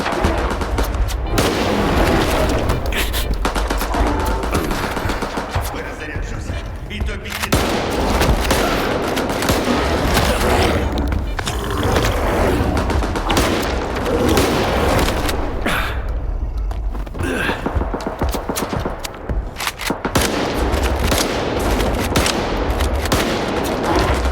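Sustained automatic gunfire in the video game S.T.A.L.K.E.R. 2, loud and nearly continuous, with dense bursts and booming impacts throughout.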